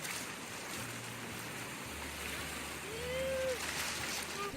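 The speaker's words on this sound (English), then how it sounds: "The sound of rushing water and the scenery around it is what draws people like Andrea Dover and Ming Stevens to Blount" Rushing river water in Blount County, a steady broadband wash that holds at an even level throughout with a slight swell near the end, with no one speaking.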